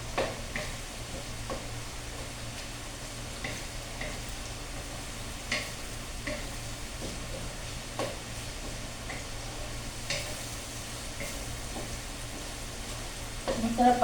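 Shrimp paste (alamang) being sautéed in a large wok in a hot home kitchen: a steady, close sizzle and crackle that runs throughout, with occasional clicks and scrapes from stirring.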